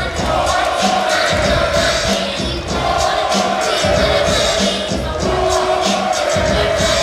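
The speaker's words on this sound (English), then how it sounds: "As you can tell, he brings one heck of a crowd everywhere he goes." A packed crowd at an MMA event roars and whoops continuously as a welterweight fighter walks out to the cage, loud cheering rising and falling in waves.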